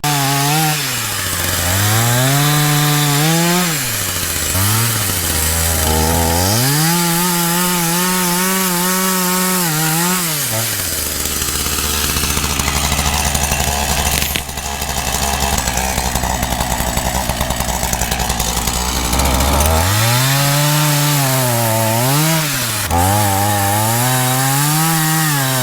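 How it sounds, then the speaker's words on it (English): Chainsaw cutting through bigger trees in a yard, the engine revving hard in long loaded bursts that drop to idle between cuts, loud and close with no talking. "I'm going to knock some of this down with the chainsaw,"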